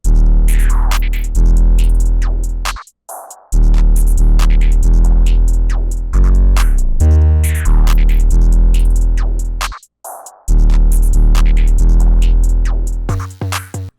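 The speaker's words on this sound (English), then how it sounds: "Altogether, guys, this is what the drums are going to sound like." A programmed hip-hop drum beat made in FL Studio, with deep, booming 808 bass and crisp hits, loud throughout, with a couple of brief cutouts to silence.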